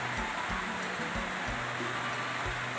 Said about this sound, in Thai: ฟ้าเริ่มสว่างแล้วแต่ยังมีฝนอยู่นะครับผม